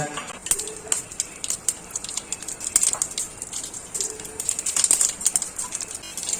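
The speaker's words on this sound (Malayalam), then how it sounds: "കടുക് പൊട്ടട്ടെ" Mustard seeds splutter in hot coconut oil for a Kerala tempering, giving a rapid, irregular stream of sharp pops and crackles, close and fairly loud, with no talking.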